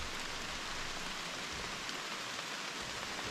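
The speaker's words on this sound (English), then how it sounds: "we're hoping if this rain moves out, it might cool it off another degree or 2" Steady rain falls on a cool morning during a Georgia deer bow hunt, a constant soft hiss with no other sounds over it.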